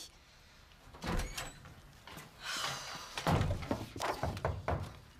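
An interior door is opened as someone walks in, giving a series of thuds and knocks with rattling handle and latch sounds that grow louder toward the end, close by.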